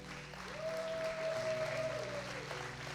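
Church congregation applauds together, a steady wash of clapping close and full throughout, with a sustained held tone from a voice or instrument running over it.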